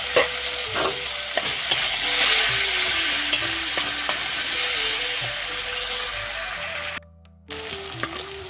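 Chopped tomatoes frying in hot oil with whole cumin seeds and dried red chillies give a steady, close sizzle with stirring clinks from the pan, dropping briefly near the end before the crackle returns.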